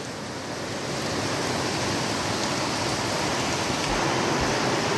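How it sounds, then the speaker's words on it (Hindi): Heavy monsoon rain pours off a house roof onto a verandah, a dense, steady, loud hiss of falling water with no talk. "तो आजकल काफ़ी भयानक सी बारिश लग चुकी है।"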